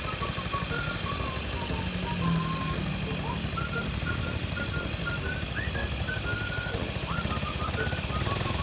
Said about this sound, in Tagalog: Ayan at umaandar na nga ang kanyang motorsiklo subalit may konting ingay akong naririnig.